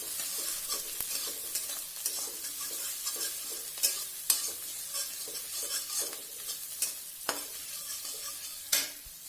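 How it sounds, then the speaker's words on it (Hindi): Egg pav bhaji gravy sautéing in a pan, a steady close sizzle and frying hiss with a spoon stirring and occasionally clicking against the metal. "इसको थोड़ा हम अभी भूनेंगे।"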